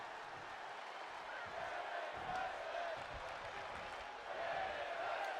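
Steady crowd noise from a WWE 2K22 wrestling match, a continuous broad roar of cheering that swells slightly near the end, with commentary-like voices faintly mixed underneath.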